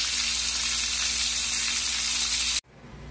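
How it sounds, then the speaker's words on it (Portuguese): Chicken pieces frying in a pan for chicken parmigiana give a loud, steady, close sizzle that cuts off abruptly near the end. "aqui eu tô fritando frango pra fazer uma parmegiana"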